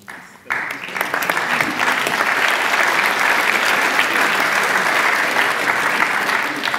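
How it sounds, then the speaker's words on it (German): Sudden burst of loud, sustained clapping from a large audience, continuing steadily without a break. "Applaus"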